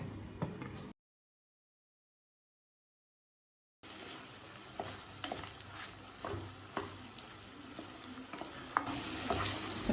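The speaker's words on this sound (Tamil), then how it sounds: "நல்லா மிக்ஸ் பண்ணிக்கலாம்." Egg poriyal masala frying in a pan while being stirred: a close, steady sizzle with scraping spoon strokes, briefly cut to silence near the start before resuming.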